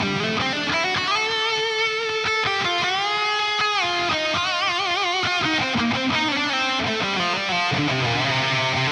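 Electric guitar lead tone through STL Tonality Lasse Lammert amp and effects, sustained distorted notes with bends and vibrato, loud and continuous throughout with no talking.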